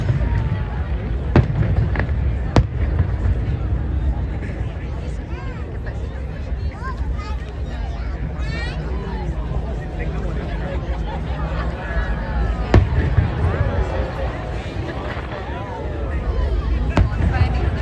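Bonfire Night firecrackers, 4th November, pop from below in scattered sharp bursts, a few close together early and more spread through the middle and end, set in a constant murmur of distant crowd noise.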